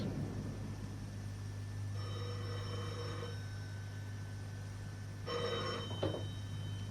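An old-fashioned telephone bell rings in two separate bursts of shrill metallic trilling, fairly faint over a steady low hum in a radio-style audio drama.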